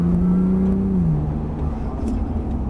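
Turbocharged Porsche accelerating hard, its engine note holding steady then dropping in pitch after about a second, loud and close with a continuous rumbling roar throughout.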